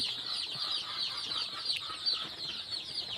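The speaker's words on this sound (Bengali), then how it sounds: "কি সুন্দর মুরগির বাচ্চাগুলো" Two-day-old chicks at a poultry farm, a dense chorus of high, continuous peeping from many birds, steady and moderately close.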